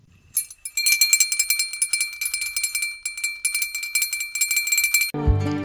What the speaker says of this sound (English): Bell vibrates when shaken.